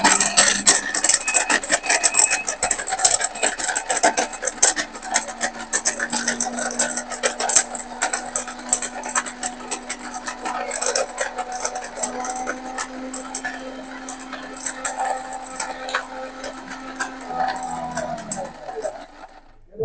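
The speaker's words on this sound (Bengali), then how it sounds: "আমরা মূলত এখন ব্লেন্ডার করে আপনাদেরকে দেখাবো।" An electric blender with a locking lid runs for about seventeen seconds. It gives a steady motor hum under a gritty, rasping grind, then cuts off near the end.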